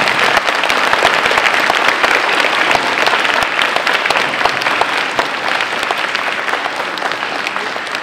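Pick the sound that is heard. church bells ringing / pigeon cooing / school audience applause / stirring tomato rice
school audience applause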